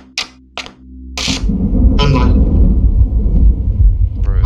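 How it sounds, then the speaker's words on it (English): Deep, continuous thunder rumble rolls through a stormy scene in the horror video game Five Shows At Wario's, swelling after a few short knocks and lasting to the end, with voices talking over it. "WW Wario always has to add Thunder, doesn't he?"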